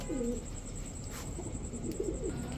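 Soft, low cooing from pigeons comes in a couple of short rounds against a steady background hum.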